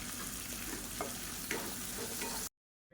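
Vegetables with drumstick sauté in a pan for a Tamil kulambu, a close, steady sizzle with a few stirring knocks, stopping abruptly near the end.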